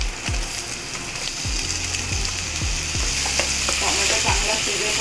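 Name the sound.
tomatoes frying with ginger garlic paste, black-eyed peas usal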